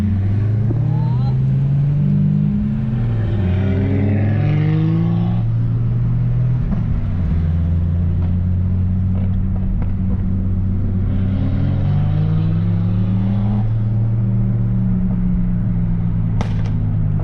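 A 400 hp RB25DET-powered Nissan R33 running E85 pulls hard at full boost, its engine note climbing and shifting in long sustained sweeps, loud and close throughout.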